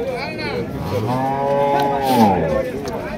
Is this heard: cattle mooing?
yes